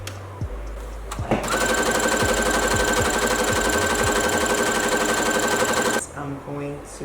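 A sewing machine runs a long loose gathering stitch along the hem of a circle skirt for a half-scale floral ballgown. The whir is loud and steady and close, with soft clunks of handling before and after.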